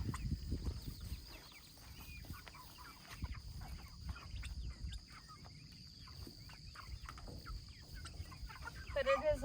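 Chickens cluck softly and intermittently inside a moveable coop, faint against outdoor background rustle, with a person speaking at times.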